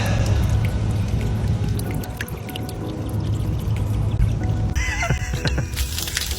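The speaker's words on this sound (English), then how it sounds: "the water is actually flowing into the boat" Water rushes and splashes steadily into a boat through its open drain plug hole, a loud continuous gurgling pour that swells and churns near the end.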